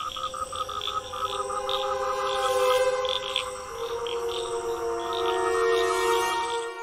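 Cartoon frogs croak in a rapid, pulsing chorus of repeated calls, moderately loud and continuous, with a mass of frogs emerging from a river.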